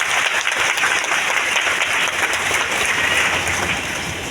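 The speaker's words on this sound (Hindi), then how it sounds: "वाह, एक जोरदार ताली आप सभी के।" An indoor audience at a large business event in Latehar, Jharkhand breaks into loud sustained applause, a dense wash of many hands clapping together that fades slightly toward the end.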